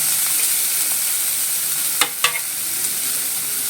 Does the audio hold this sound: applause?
no